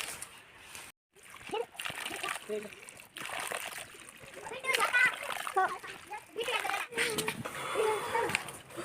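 Water from a small tap at a mountain spot splashes and spatters steadily, sometimes louder in bursts, while children and other people talk and chatter close by throughout.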